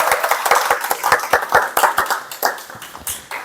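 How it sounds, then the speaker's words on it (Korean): Audience clapping at a Korean business talk, a steady, close run of individual claps in an even rhythm that stays fairly loud throughout, with little speech. "여러분의 열화와 같은 박수 부탁드리겠습니다."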